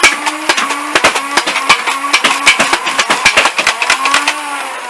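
An Adventure Force Spectrum toy foam blaster powered by AA batteries whirs its flywheels and fires a rapid run of darts, sharp repeated thwacks over a humming motor whine that dips with each shot.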